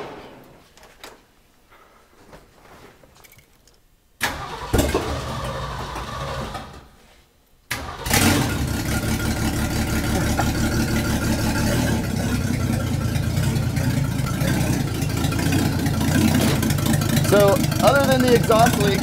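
A car with an exhaust leak, found in a storage unit near a college campus, is started after a quiet stretch and settles into a loud, steady idle, with people talking nearby.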